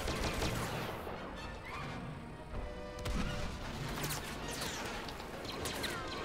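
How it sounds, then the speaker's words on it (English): A mine goes off in the Star Wars Battlefront beta, a sharp crashing blast partway through amid ongoing blaster fire and game battle noise, fairly loud and close. "Did my mine just go off?"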